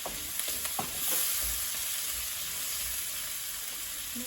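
Onions and green chillies sizzle in a pan for a Jaffna chicken curry, a steady close hiss with a few soft stirring clicks near the start and no talking.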